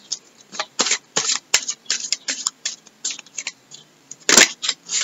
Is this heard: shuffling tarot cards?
yes